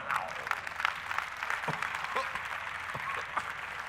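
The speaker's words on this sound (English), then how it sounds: "You see, you are clapping." A congregation at a church sermon claps softly and unevenly, faint scattered hand claps heard at a distance for a few seconds.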